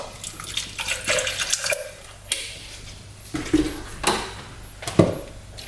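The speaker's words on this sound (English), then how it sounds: "simple rinse out my blender with a little bit of water" Water splashes and swishes in short bursts as a blender is rinsed and swirled, close by with pauses between pours.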